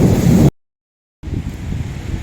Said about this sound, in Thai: ลมแรงมากเลยครับ